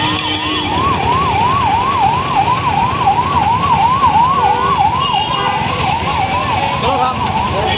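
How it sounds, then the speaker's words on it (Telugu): An ambulance siren wails in a fast, steady up-and-down cycle during a motorbike rally, loud and close, with traffic rumble beneath it. "అంబులెన్స్ అంబులెన్స్ అంబులెన్స్ సైడ్ అవ్వండి"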